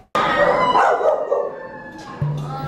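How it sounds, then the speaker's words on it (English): Puppies in cages at a Miami-Dade animal shelter cry and howl, a loud, continuous, wavering wail of several young dogs heard up close. "Crying puppies that will never make it out of these cages alive."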